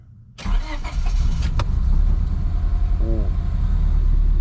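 A Honda Civic engine cranks over and fires into a steady, loud running idle at close range, with a brief exclamation from a person near the start.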